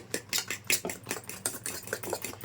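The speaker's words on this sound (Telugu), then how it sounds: "పాలకూర గుడ్డు రెండు చక్కగా కలిసిపోవాలి బాగా స్పాంజీగా వచ్చేటట్టు కలుపుకోవాలి" Egg and chopped spinach batter for a fluffy omelette whisked briskly in a bowl, a steady run of quick scraping, clinking strokes at close range with no talking.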